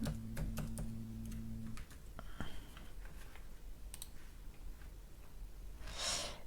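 Typing on a computer keyboard: a quick run of close, light key clicks at the start, then a few scattered taps against a low background hum.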